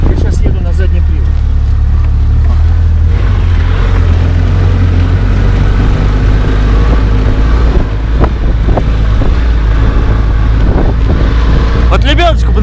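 A homemade off-road vehicle drives in rear-wheel drive, its engine rumbling steadily up close under heavy wind buffeting, with occasional knocks and rattles and someone talking over it.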